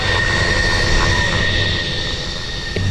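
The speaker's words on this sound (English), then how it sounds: "The Navy's last F-14 Tomcat made 2 ceremonial passes before its final landing at Locka Airport." A Navy F-14 Tomcat passing over Opa Locka Airport gives a loud, steady jet roar that holds level for a few seconds and eases off slightly toward the end, with no talk.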